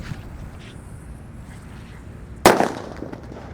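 Cobra firecracker, lit outdoors during Ramadan, bursts with a single sharp, loud bang after a quiet stretch of faint background hiss, followed by a short crackling tail.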